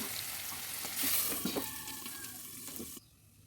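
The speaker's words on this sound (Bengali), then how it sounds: "আমি এইভাবে সব ভেজে নেব" Bitter gourd sizzles and crackles in hot oil in a pan, a steady close frying hiss with a few stirring clinks, then it quiets abruptly near the end.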